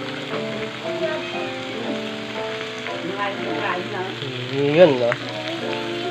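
Beef sizzles on a Korean grill at a home meal, a steady close-up frying hiss with crackles running throughout while a voice talks over it.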